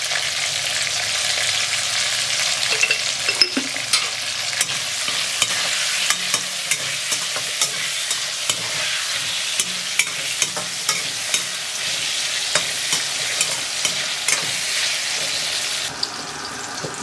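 Brinjal pieces fry in oil for Hyderabadi Bagara Baingan, a constant loud sizzle with regular light clicks of a spoon stirring the pan.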